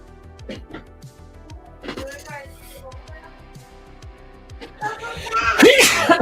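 People talk and murmur, then a single sharp sneeze bursts out near the end, loud and close.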